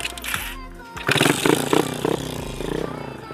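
A motorcycle engine fitted with a freshly tuned PE carburetor, jetted at 35 and 98, idles briefly and then revs in a series of sharp, close blips, each burst rising and falling.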